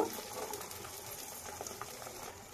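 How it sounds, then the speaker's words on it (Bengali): An egg frying in a hot pan, a steady soft sizzle and crackle with scattered small pops throughout, fairly quiet and close, with no voices. "তো ডিমটাকে আমি ভালো করে ভেজে নেব।"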